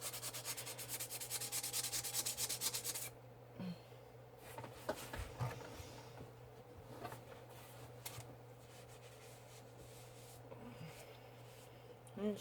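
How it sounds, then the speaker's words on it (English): Close, steady scratchy rubbing of sandpaper on a ceramic mug, loud at first, then softer intermittent scraping with small knocks. "So just give your mug a good little sanding."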